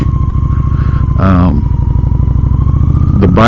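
A Honda Shadow 750 ACE motorcycle carrying a passenger is walked along, its engine running close and loud with a steady idle-like rumble, while a voice talks briefly over it.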